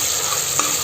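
Onions sizzling in hot oil for mutton masala curry, a dense continuous frying hiss at close range with one brief stirring scrape partway through.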